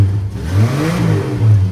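A Jeep engine, just repaired after a fuel pressure regulator fault and started cold, revs loudly and close, rising and falling in a deep rumbling roar with steady mechanical whir underneath.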